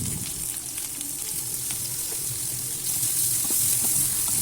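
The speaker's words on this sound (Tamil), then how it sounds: "இந்த இது வதங்கும் போது இதோட சேர்த்து மஞ்சத்தூளும் கொஞ்சம் கல் உப்பும் போட்டு வேக விடுவோம்" Steady frying sizzle of green chilies in hot oil, loud and close, with a continuous crackling hiss that swells slightly toward the end.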